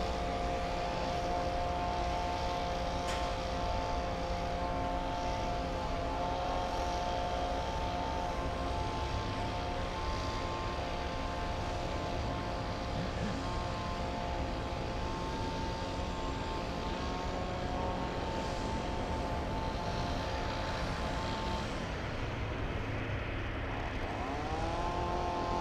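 A Lufthansa aircraft at LAX produces a steady, droning engine roar that holds at a constant level throughout, with a tonal whine shifting near the end.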